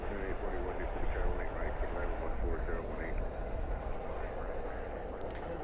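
A jet airliner lands at night at Dallas/Fort Worth International Airport with spoilers up and thrust reversers deployed, giving a continuous distant roaring rumble under nearby conversation.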